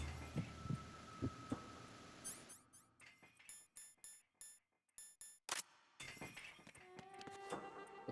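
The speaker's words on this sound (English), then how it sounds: "That heartbeat sounds fairly normal." A quiet video game heartbeat gives a few soft low thumps, then a series of sharp clicking and crackling bursts separated by silent gaps, followed by steady faint ambience and tones.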